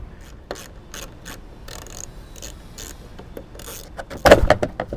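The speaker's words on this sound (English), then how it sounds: "this whole thing has to come out by removing these two screws" Screws are backed out of a car's rear signal light housing with a ratcheting tool, a close run of quick clicking ratchet strokes ending in a louder burst of scraping metal.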